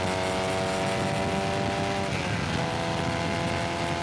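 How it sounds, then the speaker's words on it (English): A race car at speed on a hot lap at Sebring during an HSR endurance event, its engine droning loud and constant with a shifting pitch, heard up close from onboard with no talking. "Our hot lap begins as we cross the start-finish line and go under the second bridge on the pit straight, headed toward turn 1."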